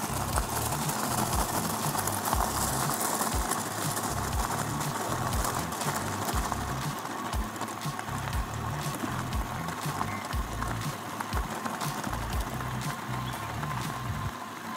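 An Engwe M20 moped-style e-bike climbs a gravel hill, tyres grinding and crunching over loose stones in a steady, close, continuous rush with wind noise and no talking.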